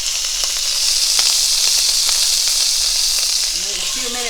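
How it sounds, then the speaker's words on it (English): A Chilean sea bass fillet sizzling in a pan, steady loud hissing sizzle with faint clicks, and a voice starting briefly near the end. "while this is cooking on that side"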